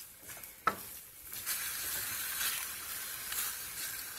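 Spinach tagine stirred in a pan over low heat, a steady soft sizzle with scraping strokes of a utensil and one sharp knock against the pan, close and continuous.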